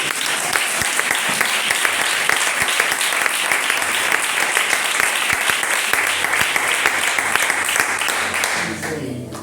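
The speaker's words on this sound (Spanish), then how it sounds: "¿Puedes darle un aplauso a la palabra?" A church congregation bursts into loud, sustained applause, many hands clapping densely and close for several seconds with scattered voices mixed in, before it cuts off abruptly.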